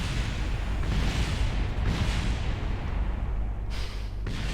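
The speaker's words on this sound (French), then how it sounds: "Le booster qui s'est éclaté contre le sol." A rocket booster in Kerbal Space Program crashes into the ground and explodes with a loud, rumbling blast. Deep booming continues throughout, with bursts of debris noise rising near the end.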